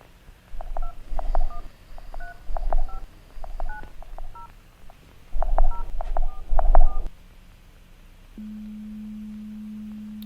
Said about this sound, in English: We get it, the phone doesn't work. We can stop with the annoying tone now.